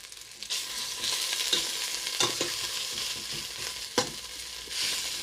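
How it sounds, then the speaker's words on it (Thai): Red curry paste stir-fried in oil over low heat in a pot, cooking for Thai pork jungle curry: a steady soft sizzle with a few sharper scrapes of the spatula, close and continuous with no talking. "เอาพริกแกงลงไปผัดให้หอมก่อนนะคะ ใช้ไฟอ่อนนะคะ"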